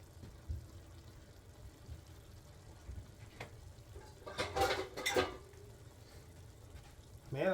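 Casserole being spooned from a pot into a bowl in a home kitchen, soft scraping and clinking of utensil against cookware, a few louder knocks mid-way, faint and close.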